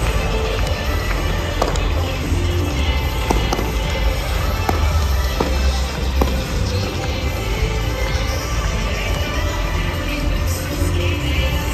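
Fireworks go off at Universal Studios Orlando, with scattered pops and bangs over a dense crowd murmur at a steady, moderate level.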